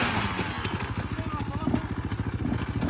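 Motorcycle engine idling nearby with a rapid, even chugging pulse and some clatter, steady and moderately loud, with a voice talking over it.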